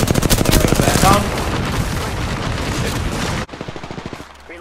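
Rapid automatic gunfire from the video game Apex Legends rattles in dense bursts for about three and a half seconds, loud and close, then drops away to quieter scattered shots.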